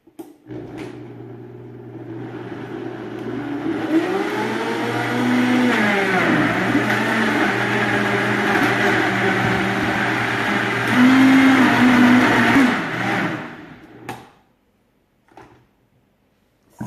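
A blender whirs steadily for about thirteen seconds, mixing fruit with maple syrup; its motor pitch rises and dips as it works, then cuts off, leaving near silence with a few faint knocks.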